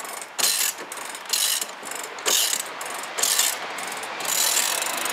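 A hand crank raises the lift mechanism of a Flagstaff pop-up camper with loud, close ratchet clicking in repeated bursts about once a second, each run of pawl clicks separated by short pauses between turns.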